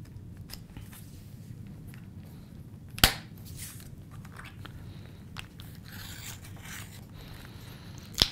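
A paper trimmer slices and scores envelope paper, giving a sharp close snap of the blade mid-way and another near the end, with soft sliding rasps and rustles between them.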